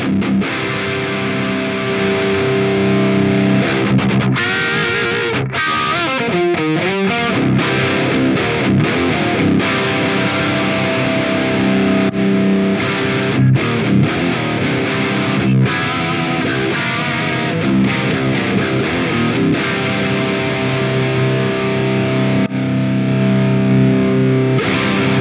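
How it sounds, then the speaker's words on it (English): Electric guitar played through Mercuriall Reaxis power tube amp models, a loud, continuous distorted tone with strummed chords and sustained notes running steadily throughout, no talking. "let's have a listen to how the different power tube amp models sound"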